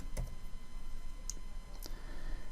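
A computer mouse gives a few sharp, isolated clicks, faint and close, against a quiet background hum.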